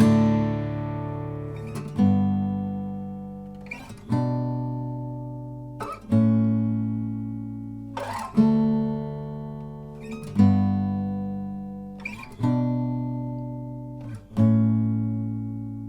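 An acoustic guitar strums a chord progression, with a new chord struck roughly every two seconds and left ringing between strums.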